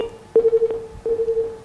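A telephone line on a live broadcast viewer call gives a series of repeated short electronic tones in steady pulses, a clear beeping pattern that breaks off as the call drops.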